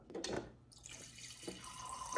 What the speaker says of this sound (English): Now I'm gonna go ahead and just test the water.